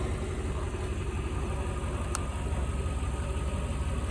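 A car engine with noisy lifters idles steadily with the clutch in, a constant low rumble close to the microphone, broken only by one faint, brief tick partway through and no talk.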